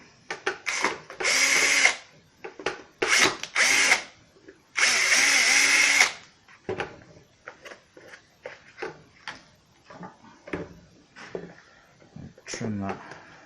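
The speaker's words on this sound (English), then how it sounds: "we're going to drill 3 holes in this." A power drill whines in three short bursts, each a second or so, drilling holes in a plastic Vauxhall Zafira horn pad, followed by quieter clicks and handling noises.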